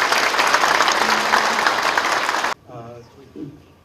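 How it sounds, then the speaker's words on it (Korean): Loud, sustained applause from the audience at a Korean Presbyterian presbytery meeting held inside a church fills about two and a half seconds, then stops abruptly, leaving quiet room sound with a brief voice. "인사할 때 뜨거운 박수로 격려해 주시기 바랍니다."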